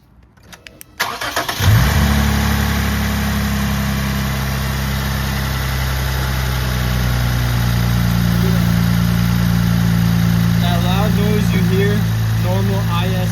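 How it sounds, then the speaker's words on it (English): A Lexus IS250 or IS350 engine cranks and catches after a few clicks, then idles in a steady low rumble close by, revving slightly toward the end. "engine sounds"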